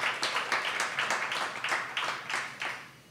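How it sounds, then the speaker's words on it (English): A studio audience claps for two hockey player guests on a hockey talk show, steady applause with irregular hand-clap bursts, moderately near and without talk over it. "Let's hear a round of applause for these two guys."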